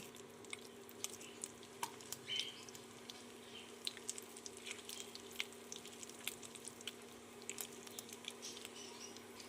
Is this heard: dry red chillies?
yes